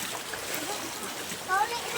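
Splashing steps through flood water, a broad wet wash that continues throughout, with a short voice rising near the end.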